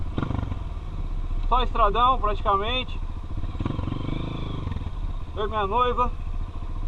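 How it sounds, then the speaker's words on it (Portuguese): Dirt bike motorcycle riding on a dirt road with a couple aboard, its engine droning steadily up close under bursts of talking, with brief rising revs and rattling. "Rolezinho de moto"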